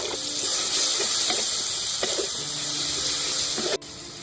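Chopped onion with a little salt fries in a pan, making a continuous bright hiss with faint spatters throughout. A few soft knocks sound, a brief dip comes near the end, and no one speaks.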